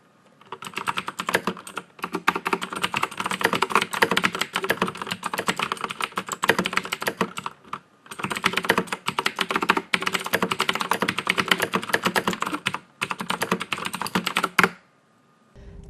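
Fast, continuous clicky typing on a Razer BlackWidow Ultimate mechanical keyboard with green switches, sharp crisp keystrokes in long bursts with a couple of short pauses, close and alone.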